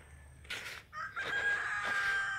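Rooster crowing outdoors on a hillside, a single drawn-out, fairly faint call rising and holding over quiet surroundings, with a few short clucks around it.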